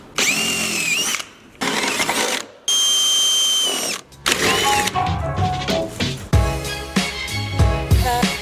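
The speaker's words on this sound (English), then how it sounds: "We're gonna be drilling out 2 holes." A power drill boring two holes for Jeep Wrangler soft top brackets, whining in several loud bursts of a second or so, separated by brief pauses and clatter, with no talk.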